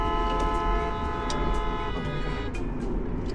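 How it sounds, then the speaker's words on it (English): Steady road traffic with tonal horn sounds drifting through, a continuous tone layered with brief higher honk bursts from nearby vehicles, fairly loud and unbroken, with no talking. "Why are they honking?"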